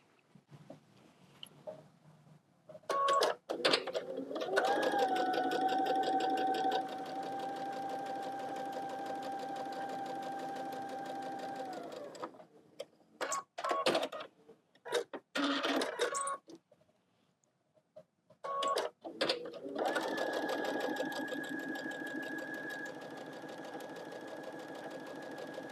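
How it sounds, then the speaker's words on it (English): Sewing machine stitching quilt fabric with a quarter-inch seam, running in steady bursts of a few seconds each, with a steady whirring hum and short pauses between seams, close and fairly loud. "I'm going to sew 1/4 of an inch down the side each way"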